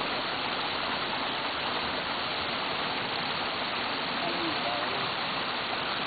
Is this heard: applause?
no